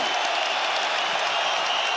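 A capacity arena crowd in Perth, Western Australia gives a standing ovation after a 25-minute UFC fight, with a dense, unbroken wash of loud clapping and cheering filling the space.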